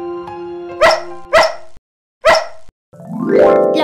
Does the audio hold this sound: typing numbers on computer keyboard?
no